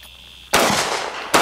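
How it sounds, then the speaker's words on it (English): A Grand Power K100 MK12 9mm pistol fires two loud, sharp shots about a second apart, each burst ringing out with a short echoing tail. "It shoots really good."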